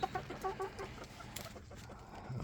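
Roosters clucking close by in short, repeated bursts, soft and intermittent over a quiet farmyard background.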